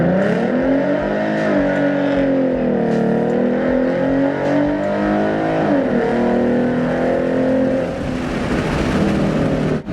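A Ford Mustang fitted with 3.73 gears launching at full throttle, its loud engine roaring and climbing in pitch with a droning harmonic rise, heard up close and continuous while the wheels spin.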